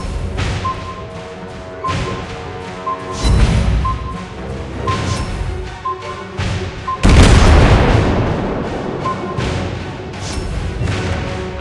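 Torpedo hits and explosions in the naval combat game World of Warships. Loud, repeated booms and heavy thuds stack over a busy layer of game sound, with one big blast standing out partway through.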